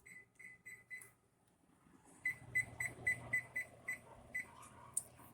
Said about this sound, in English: Set the timer to 16 minutes.